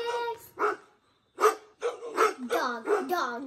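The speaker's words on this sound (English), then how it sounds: "Dog." A dog barks several times in a recorded clip played during a home listening game, short repeated yelping barks close by, with a voice heard among them.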